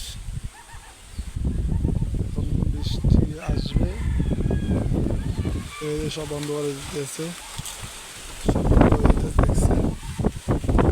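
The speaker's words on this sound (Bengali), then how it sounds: "বাতাস অনেক বাতাস উঠেছে এখন বাতাস" Gusts of strong wind ahead of coming rain buffet the microphone in heavy, uneven bursts while someone talks over them outdoors.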